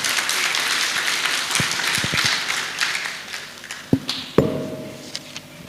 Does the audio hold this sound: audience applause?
yes